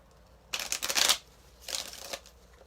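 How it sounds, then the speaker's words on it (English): Tarot deck shuffled by hand, two brisk riffling bursts close up, the first longer and louder, separated by a short quiet gap. "One more shuffle."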